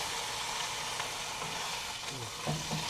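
Pot roast meat searing in a black iron pot, a steady close sizzle and hiss with a faint shift and crackle near the end, no voices.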